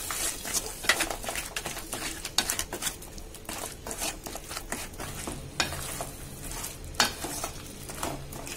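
Ground coconut being stirred into a crab masala curry in a pan, with repeated scraping and stirring strokes over a soft sizzle, close and fairly loud, with no voices.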